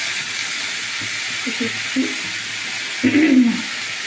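Vegetables hiss and sizzle as they are stirred in a small, overfilled iron kadai, a steady close frying hiss with a louder, fuller burst of sizzling near the end.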